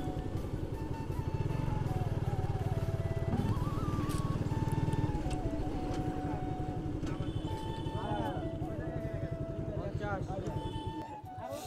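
A motorcycle engine hums steadily throughout, with wind rush and road noise, on the way to Gojni Obokash in Jhenaigati, Sherpur, while people talk over it.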